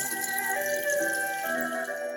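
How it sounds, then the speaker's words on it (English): A rice paper wrapper is dipped into a bowl of room-temperature water for summer rolls, giving soft, continuous watery sloshing at close range with no talking. "Let the wrapper submerge in the water for a few seconds and remove and drain it."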